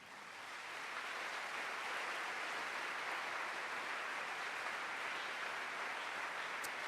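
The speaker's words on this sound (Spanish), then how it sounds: "Denle un aplauso al Señor" Steady applause from a church congregation, a continuous wash of many hands clapping that swells in over the first second and then holds at an even, fairly distant level with no voices.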